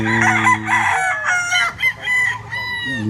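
Gamefowl roosters of the sweater and roundhead breeds crow loudly and close, several overlapping calls with clucks in between.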